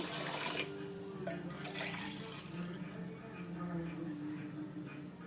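Coconut milk pours steadily into rice in a pot for coconut rice, a soft continuous liquid stream with faint splashing, fairly quiet throughout.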